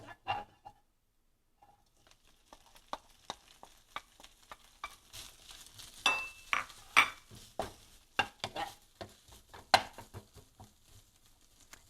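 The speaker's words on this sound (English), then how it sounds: "you can always take your spoon and just cut it in the wok" Pork is cut and stirred with a spoon in a wok, heard as irregular metallic scrapes and clacks that start sparse and grow busier, with a quiet background sizzle and no speech.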